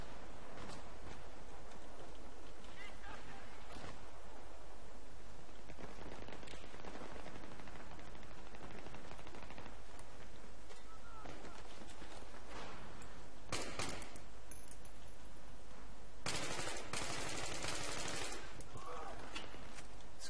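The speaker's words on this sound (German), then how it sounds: "Ich spawns gleich unter schwerem Beschuss." Heavy gunfire and machine-gun bursts in Battlefield 3 rattle on continuously at a distance, fairly faint and muffled, with a louder burst near the end and someone talking over them.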